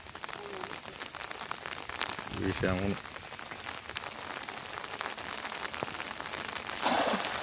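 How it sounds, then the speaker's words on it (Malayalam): Rain falling steadily beside a river and a small fishing enclosure, a constant soft patter across the whole scene while someone speaks briefly over it, with a louder splashing gust near the end. "മഴയൊക്കെയാണ്."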